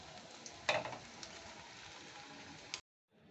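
Stuffed bread langcha deep-frying in hot oil until brown, a steady sizzle with one brief louder burst of crackle, then cutting off into silence near the end.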